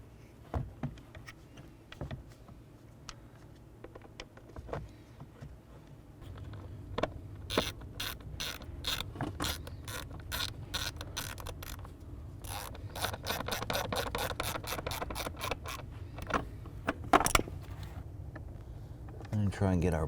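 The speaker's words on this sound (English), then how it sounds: "I'm going to go ahead and start putting the screws in first." A ratcheting tool drives screws to fix a blower motor in place inside a 2004-2009 Dodge Durango, with bursts of rapid clicking and mechanical whirring, some faint rubbing and knocks between runs, close up and fairly quiet throughout.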